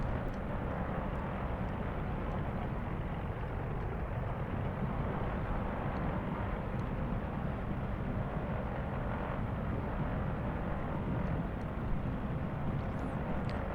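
Steady drone of the piston engines of a Britten-Norman Islander during a run-up in a flight simulator, a constant broadband engine roar holding even in loudness throughout with no talking.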